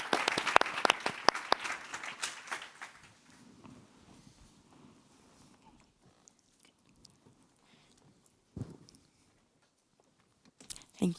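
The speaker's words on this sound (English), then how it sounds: "A warm, big applause to our panelists" A conference audience gives panelists a burst of applause that is loud at first, then thins out and fades within about three seconds, leaving near silence broken by a few scattered claps and small noises.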